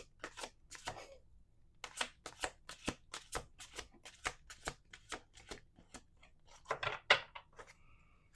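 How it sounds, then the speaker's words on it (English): A deck of cards being riffle-shuffled several times, crisp rapid flutters separated by short pauses, close and clear with no talking. "Let's do one more shuffle."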